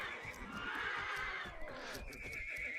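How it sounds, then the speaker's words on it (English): A horse's drawn-out death neigh rings out in the strategy game 0 A.D. during a large 4v4 battle, a loud whinny over battle noise and faint clip-clop hooves. "Horse death being announced everywhere."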